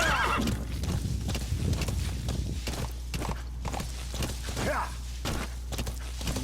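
A horse in the video game Metal Gear Solid 5: The Phantom Pain whinnies and snorts over steady clip-clopping hooves, with a low constant hum running underneath throughout.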